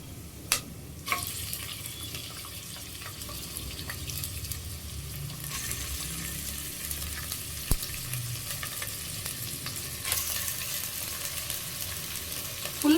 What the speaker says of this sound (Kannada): ಸೊ ಈ ಟೈಮಲ್ಲಿ ನಾವು ಚಿಕನ್ ಹಾಕ್ಬಿಡೋಣ